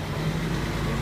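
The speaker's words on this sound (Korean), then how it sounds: "지금 차 소리 때문에 시끄러워서 방문을 못하고 계신 거예요." Steady, fairly loud car traffic noise outside, a continuous low rumble of passing road vehicles with no clear individual pass-bys and no talking.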